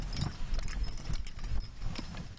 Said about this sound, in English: Belgian horses Molly and Prince kick up flurries of snow